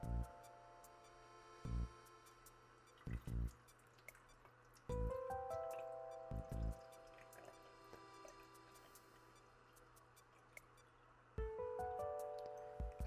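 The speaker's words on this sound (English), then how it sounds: "we need to remove the cap and add in some distilled water." Distilled water poured from a small pitcher into a sea monkey tank comes through as scattered splashy drips and short pours at irregular intervals, with ringing watery tones in between, fairly close and quiet.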